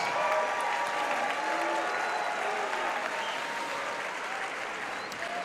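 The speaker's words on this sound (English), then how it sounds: "Let's give a great round of applause once again to these 12 semifinalists." Sustained, even applause from an audience at a professional Latin ballroom dance semifinal, the Ohio Star Ball, a dense crowd clapping throughout with faint voices mixed in.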